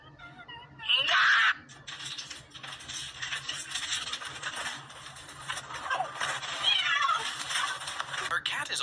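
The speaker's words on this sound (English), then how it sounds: "Her cat is always interrupting her while she does her homework." A house cat meows persistently while its owner does homework indoors, with a loud, clear meow near the start and another later over steady background room noise.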